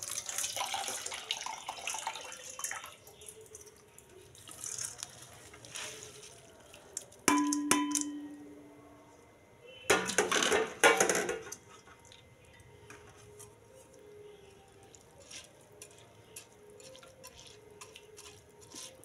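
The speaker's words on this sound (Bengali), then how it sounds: "আর আমি চালটাকে এবার দিয়ে দেব।" Rice poured into a pot of boiling water while cooking biryani, quiet bubbling broken by two short rushing bursts of grains splashing in.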